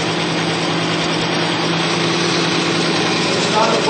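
An extreme pressure test machine running with diesel fuel treatment added gives off a steady, loud mechanical whir with a constant hum. It holds unchanged throughout and nobody speaks over it.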